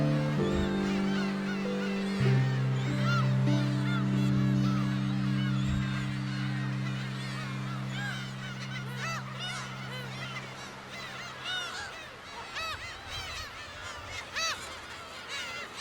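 Seagulls call in a loud, steady chorus near a nest on Dokdo island, overlapping honking cries rising and falling throughout without any voices.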